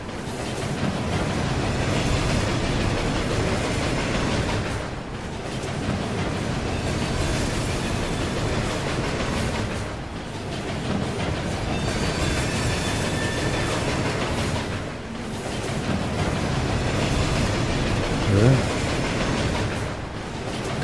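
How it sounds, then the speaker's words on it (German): A train passing by in the video game Murdered: Soul Suspect: a loud, continuous rolling rumble with rhythmic clatter swelling and easing across about twenty seconds, with no talk over it. "Kann ich mich nur hin teleportieren, wenn der Zug gerade vorbeifährt."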